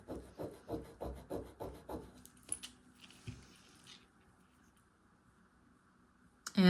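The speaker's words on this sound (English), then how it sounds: "It is scratching like it could be sterling." Silver jewelry is rubbed against a testing stone in a quick series of about seven rhythmic scraping strokes, close and soft, then the scratching fades into near silence before a brief sharp noise at the end.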